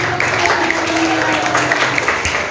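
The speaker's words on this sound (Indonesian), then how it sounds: "Tepuk tangan." A class of schoolchildren claps hands together in a classroom, a dense, steady burst of clapping that runs throughout with voices mixed in.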